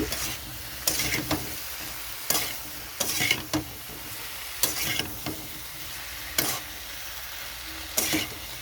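Spices with turmeric, chili and cumin powder frying for a fish curry, a spatula scraping the pan in repeated bursts over a low continuous sizzle, close and clear with no voices.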